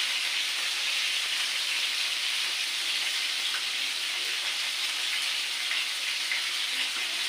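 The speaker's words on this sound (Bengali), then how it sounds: "এবারে মাছটা ভাজি হয়ে গেছে" Fish frying in a pan gives off a steady, even sizzle that holds at the same level throughout, with no talking.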